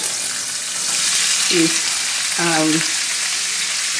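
Celery, bell peppers and onions sizzle steadily in a hot pan on a stovetop burner, the start of a one-pot Spanish chicken and rice, with an even, close frying hiss throughout.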